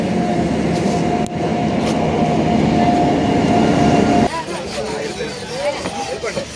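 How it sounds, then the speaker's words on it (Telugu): A passenger train rolling into a station on the route toward Araku, a loud rumbling drone with a sustained whine, then a sharp drop to quieter clanking and station noise as it slows. "మన ట్రైన్ అయితే వచ్చేసింది."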